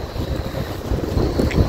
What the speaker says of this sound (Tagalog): mahangin ngayon mga folks, pero yung hangin niya is medyo mainit-init.